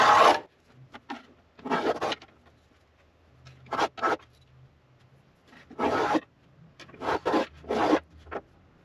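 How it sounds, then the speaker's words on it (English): Short rasping strokes of a small thumb plane trimming a black-and-white decorative backstripe on an acoustic guitar at a workbench, coming in quick bursts of two or three passes separated by brief pauses, close and fairly loud. "trim this down just with a nice little thumb plane here"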